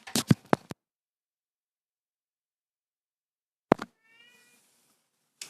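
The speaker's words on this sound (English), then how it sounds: "You can probably hear my cat in the background." A pet cat meowing nearby, a quick burst of short meows, then silence, then another meow with a drawn-out wavering tail, clear and close.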